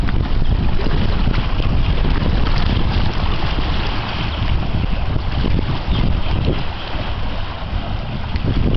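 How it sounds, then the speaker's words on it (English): The freighter Industrial Strength churns river water with its propellers, a loud, continuous roaring wash with heavy wind noise and no break. "Just shows you how much power those propellers produce."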